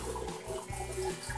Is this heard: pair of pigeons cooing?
no